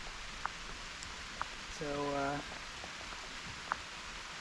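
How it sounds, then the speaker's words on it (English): Heavy rain falls steadily outdoors as a broad, continuous hiss through the whole stretch, with a few brief drip-like ticks, while a voice speaks briefly in the middle. "it's raining quite badly now"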